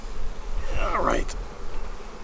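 Honeybees buzzing close by around an open hive during a brood frame inspection, one bee droning loudly past for about a second over a softer background hum, with no talking.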